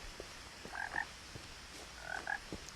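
Frogs croak in the What Remains of Edith Finch video game, giving two short clusters of croaks about a second apart over a soft, steady ambient background, with no voices.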